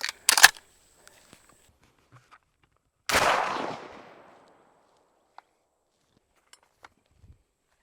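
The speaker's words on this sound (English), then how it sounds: "This time we'll be shooting through the Kicks Extended Modified Choke." A shotgun fires 3-inch number 2 Federal Black Cloud through a Kicks Extended Modified high flyer choke: one loud outdoor blast with a trailing echo, preceded by a sharp knock and followed by faint scattered ticks.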